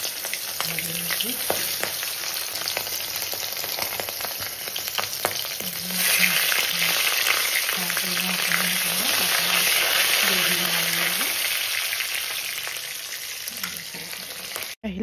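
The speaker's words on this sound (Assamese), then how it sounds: "মিঠা মাছ ভাজি লৈছোঁ" Freshwater fish fries in a pan, a loud, continuous crackling sizzle with occasional stirring, while voices murmur faintly underneath.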